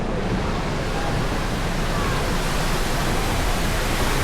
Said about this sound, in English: Our log flume.